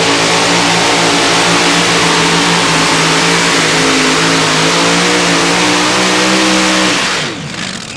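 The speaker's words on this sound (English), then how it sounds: "running a big Chrysler heavy engine" A 1932 Chevrolet two-wheel-drive pulling truck with a big heavy Chrysler engine revs hard at a truck pull, a loud sustained roar with rising and wavering pitch that cuts off abruptly near the end.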